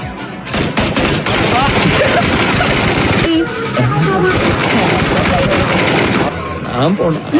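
Dense bursts of rapid automatic gunfire and explosions, loud and continuous, in a game-style battle mix with no clear talking.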